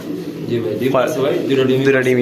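A pair of chila pigeons at a farm coo in low, rolling repeated calls close by, partly beneath someone talking.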